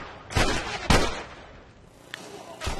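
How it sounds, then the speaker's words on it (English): Gunshots in The Last of Us, several sharp, loud reports: two close together early, a fainter crack, then another shot near the end, over a quiet background. "Shot you in the head."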